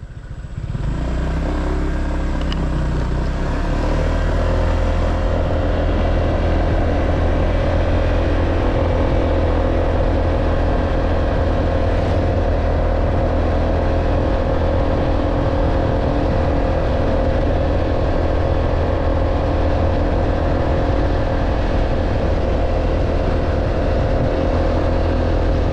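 A car drives along the newly opened Teluk Bayur road near Padang, its engine droning steadily and loudly up close with a continuous low rumble and road noise throughout, no talking.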